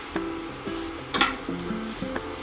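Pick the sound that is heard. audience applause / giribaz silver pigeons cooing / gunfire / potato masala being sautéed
potato masala being sautéed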